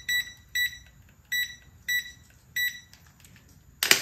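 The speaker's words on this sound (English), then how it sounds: "See? Beeping." Multimeter set to ohms giving short high continuity beeps, five evenly spaced chirps over a low background hiss, fairly faint, ending with a brief sharp click or knock.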